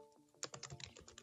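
Rapid, light clicking of keys on a computer keyboard, a quick irregular burst of typing close to the microphone.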